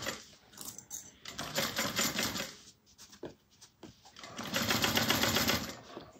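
A sewing machine stitching a satchel with a 1/8-inch seam, running in bursts of rapid mechanical stitching with pauses between, close and fairly loud, no talk.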